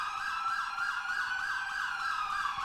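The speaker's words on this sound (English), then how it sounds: "These sirens are loud in this game." Wailing emergency vehicle siren in a video game set in a Marseille park, a continuous rising and falling tone, loud and steady without voices.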